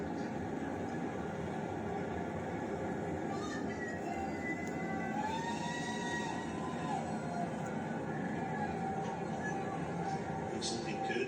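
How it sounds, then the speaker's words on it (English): A Falcon Heavy rocket's 27 engines roar as it lifts the GOES-U weather satellite into space, a steady, dense rumble that holds at an even level for the whole stretch. "All 27 engines powerfully lifting GOES-U on its trajectory and ascent into space."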